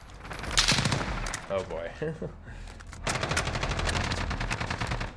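An MG36 machine gun fires in Call of Duty Modern Warfare, loud bursts of rapid automatic gunfire with a brief pause between volleys; a man's short exclamation is heard between the bursts.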